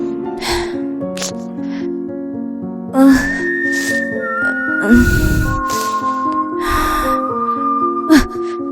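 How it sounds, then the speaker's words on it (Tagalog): Someone whistles a slow, wavering tune over several seconds, with sharp breaths and rustling noises around it. "Sino ba yung sumisipol?"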